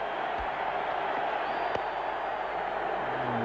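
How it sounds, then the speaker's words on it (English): Crowd at a 2002 India vs West Indies one-day cricket international in Ahmedabad, a dense steady murmur of a large stadium audience with faint scattered calls, under a commentator's voice. "The crowd are in high anticipation."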